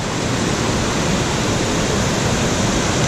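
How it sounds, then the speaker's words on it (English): Keppel's Falls near Marysville roars steadily, a loud, unbroken broadband rush of falling water heard up close with no voices. "not sure if you can hear me above the noise of these waterfalls, but here we are, Keppel's Falls."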